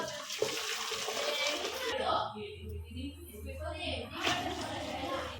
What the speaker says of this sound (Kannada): ಅಕ್ಕಿ ಅಷ್ಟಿತ್ತು ಅಷ್ಟೇ ನೀರು ಹಾಕ್ತಿದ್ದೀವಿ.